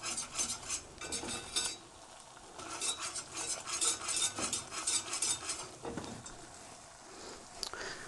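A flour roux cooks in a pan while being stirred, with repeated scraping and clinking of a utensil against the pan over a soft sizzle, close and fairly busy.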